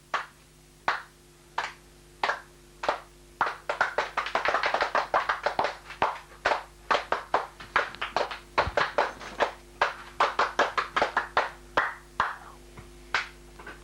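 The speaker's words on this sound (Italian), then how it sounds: "Un applauso per Marcello Schifaudo" A small theatre audience claps for the actor Marcello Schifaudo. The sharp, separate hand claps are sparse and irregular, thicken briefly into a ragged burst, then thin out again over a steady low hum.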